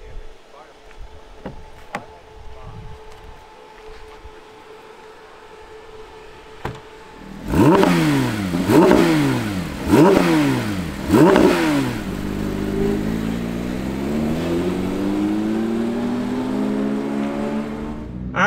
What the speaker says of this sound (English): Let's go on throttle, on track with the GT3 RS.